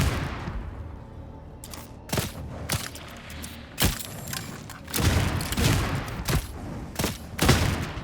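Mark 6 gun in the video game Darktide fires into a horde, sharp booming shots in an irregular burst of about ten reports, each with a heavy thump and stagger, loud and close with no talk.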